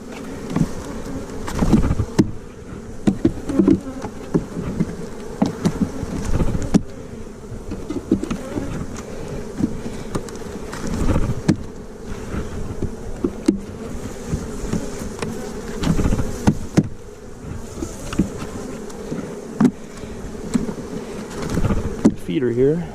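Honeybees buzz steadily around an opened hive colony being prepared for winter, a dense close drone throughout, with occasional handling knocks and faint talk mixed in.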